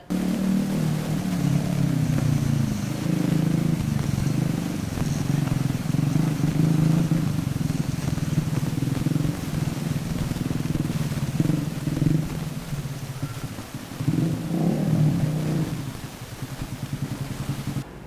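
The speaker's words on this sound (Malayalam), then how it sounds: "മെക്കാനിക്കൽ വിദ്യാർത്ഥികൾ നിർമ്മിച്ച ഗോ കാർട്ടാണ് നിങ്ങൾക്ക് മുന്നിൽ ഇവിടെ കാണുന്നത്" A go-kart built by final-year mechanical students of Holy Grace Polytechnic runs its engine in a steady, droning low hum that holds fairly loud and even, swelling slightly near the end before easing off.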